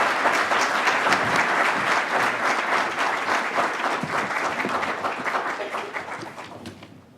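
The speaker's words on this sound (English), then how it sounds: "with your applause, please welcome Vice President Binay" Sustained applause from a forum audience at a leadership event welcoming the Vice President of the Philippines, many hands clapping densely and steadily for about seven seconds, then tapering off near the end.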